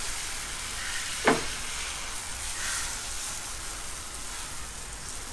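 Bread omelette batter sizzles and fries on a hot pan, a soft steady crackle with one brief sharp scrape partway through.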